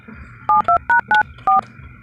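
A mobile phone number is dialed, five crisp keypad tones in quick succession close up against a quiet background.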